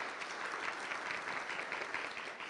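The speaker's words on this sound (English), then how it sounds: "If you'd give yourselves a round of applause for taking time out of your busy schedules and lives to be here." Convention summit attendees give themselves a round of applause, a thick, steady wash of many hands clapping at moderate distance with no pauses.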